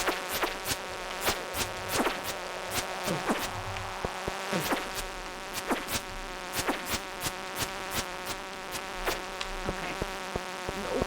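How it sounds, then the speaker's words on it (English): Swarming bees buzz in a mine in the video game Stardew Valley, a dense steady drone broken by frequent sharp clicks and hits, with no speech. "That was just too many bees."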